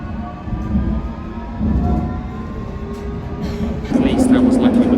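A London Underground Circle Line train rumbles loudly and close at Paddington, its low steady drone swelling as it gets under way, while an onboard announcement plays over the noise.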